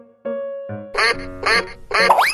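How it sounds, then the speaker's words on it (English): A duck quacks three times in quick succession, loud and close, in an animal-guessing escape room game, after a couple of short electronic tones. "Duck."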